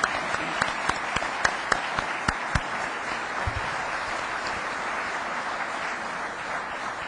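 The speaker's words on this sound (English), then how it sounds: "Just please give a round of applause." A conference audience applauding, opening with a few sharp, distinct claps that quickly merge into a steady wash of clapping, moderately distant and sustained to the end.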